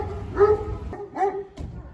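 An Alabai puppy barks in short yelps at an outdoor bird and dog market, two or three quick close barks in succession.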